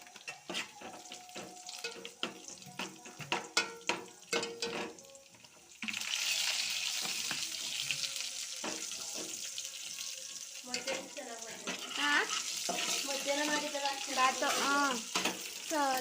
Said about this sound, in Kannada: ಸ್ವಲ್ಪ ಲೈಟಾಗಿ ಕಾದಾಗಲಿ ಇದನ್ನು ಹಾಕಿ ಫ್ರೈ ಮಾಡ್ಕೋಬೇಕು ಇಡ್ಲಿ